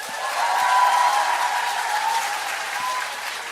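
Steady audience applause fills the room, a continuous wash of clapping lasting a few seconds at even loudness.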